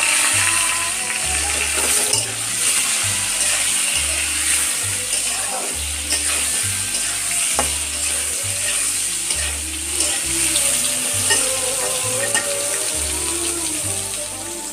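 Steady sizzling of potato and eggplant frying in a pan, loud and continuous, with a rhythmic low thumping beat of background music underneath.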